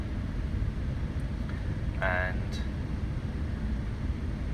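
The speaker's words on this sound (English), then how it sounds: "You can hear the engine struggling maybe" A car engine runs unevenly at idle while its intake cam timing is adjusted through ECUTek tuning software, giving a steady, low, close rumble throughout, with a brief voice partway in.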